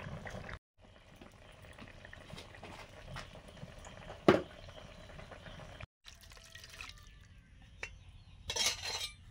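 Fish curry broth simmers at a rolling boil in a pot, a quiet, steady bubbling and popping throughout, with one sharp clink midway and a couple of brief pauses.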